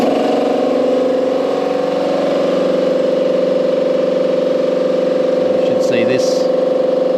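An off-grid home's air compressor runs under load with a steady mechanical drone and constant hum, loud and close, with a brief voice breaking in near the end.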